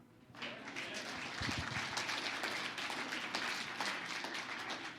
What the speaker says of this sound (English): A smattering of applause from the believers.